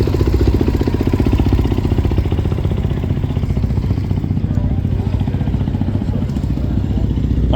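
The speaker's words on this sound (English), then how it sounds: "That bike sounds good though." A motorcycle engine idling and revving at a street festival on Fremont Street, a loud close steady rumble with a rapid throbbing pulse throughout, with voices faintly mixed in.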